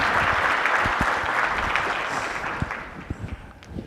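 Conference audience applauding at a general session, a full wash of clapping that gradually thins out, leaving a few scattered individual claps near the end.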